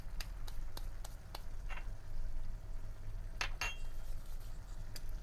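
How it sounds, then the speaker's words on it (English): Aloo gobi of potato and cauliflower gently mixed in a pan, with soft scattered clinks and taps of a utensil against the pan over a low background hum, quiet and close. "And just give it a gentle mix."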